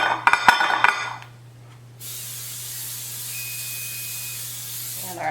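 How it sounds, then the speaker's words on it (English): Cooking spray hisses steadily onto a baking pan for cornbread, a broad continuous spray lasting several seconds after a few clattering pan sounds, with a low hum underneath. "I'll spray the baking pan."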